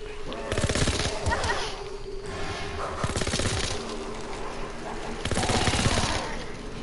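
Rapid machine-gun bursts rattle through a video game firefight, dense sustained volleys with brief pauses, heard under a player's voice talking.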